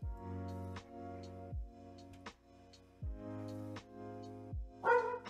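Dogs outside give a few short, faint barks and yips, spread out over a background of game music and electronic chimes.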